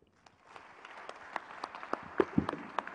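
An audience at a conference panel on restoring Africa's landscape in Accra applauds. The clapping starts sparse and swells into a steady, dense round of applause with some sharp nearby claps, and no one speaks over it.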